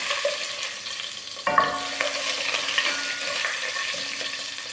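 Whole spices for mutton mandi frying in oil in a pan, a steady close sizzle with stirring scrapes and a sudden burst of louder crackle partway through.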